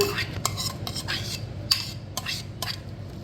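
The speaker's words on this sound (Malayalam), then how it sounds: "നല്ലപോലെ ഒന്ന് ഇളക്കി ഒന്ന് മിക്സ് ചെയ്യാം." A spoon stirs watermelon rind pachadi mixed with ground mustard and coconut in a deep bowl, sounding as a series of close, light metallic clinks and scrapes at an uneven rhythm, with no talking.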